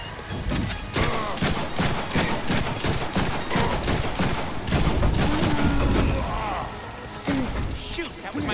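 Dense gunfire from a Deadpool video game, rapid shots and impacts crackling almost nonstop, layered under talk and game noise.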